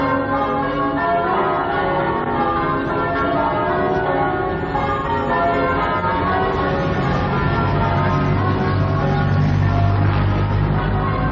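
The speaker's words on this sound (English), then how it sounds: "tomorrow morning you'll wake up to the sound of church bells" Church bells peal in London, several bells ringing loud and overlapping in a dense, continuous chime, with deep low tones swelling near the end.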